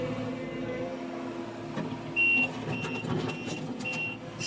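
A rented Kubota SSV65 skid steer works nearby with its engine droning and rattling, and a series of short, regular high reversing beeps starts partway through and sounds over the machinery.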